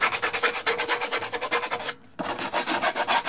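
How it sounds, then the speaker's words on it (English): A pipe edge is sanded by hand with 100-grit sandpaper in fast, rhythmic back-and-forth rasping strokes, close and loud, broken by one brief pause before resuming. "I just do this with the sandpaper."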